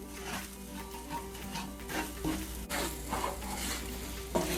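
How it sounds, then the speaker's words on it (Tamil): Garam masala and turmeric sautéed in oil and butter for matar paneer, a quiet continuous sizzle with light stirring scrapes and occasional pan clinks under a low background hum. "இதெல்லாம் நம்ம நல்லா இந்த எண்ணெயிலே பட்டர்லேயே நம்ம நல்லா இதை வதக்கிடலாம்."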